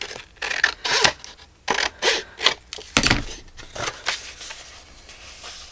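Cutting a piece off the back of an altered book being made into a journal, heard as a series of crisp, crackling snips and paper rustles in irregular bursts, close up and with no speech.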